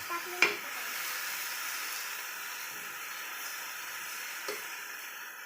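Mustard greens with water and salt are stirred in a pan, a soft continuous simmering hiss with a couple of sharp utensil clinks against the pan.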